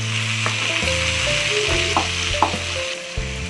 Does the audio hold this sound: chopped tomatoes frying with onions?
yes